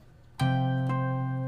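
Fingerstyle guitar plays the opening of a theme: one plucked chord rings out, then a second pluck follows half a second later, both sustaining close and clear.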